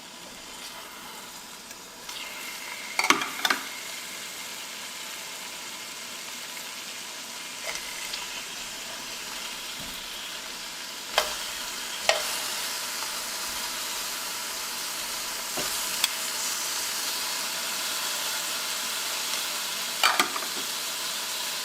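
Onions sauté in hot oil over medium-high heat with a steady, even hiss and crackle, broken by occasional sharp clicks and stirring taps, close and with no talk.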